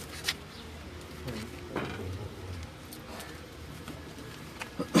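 Pigeons coo softly on a rooftop loft in Gujrat, amid patters and scattered bird calls, with a louder clatter near the end.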